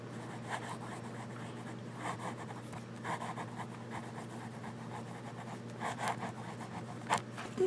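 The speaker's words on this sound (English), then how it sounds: "So let's just do a little bit of writing, okay?" A Diplomat Magnum fountain pen with a fine nib scratches across paper in short, irregular strokes and quick scribbles, close and quiet over a faint steady hum, with no talking.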